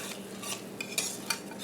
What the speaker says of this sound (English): Try to stir it really quick.